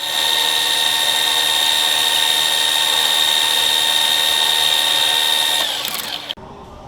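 Metal lathe taking a finishing facing pass, a steady loud high whine with constant tone for several seconds, winding down as the cut ends and the machine stops, with no talking.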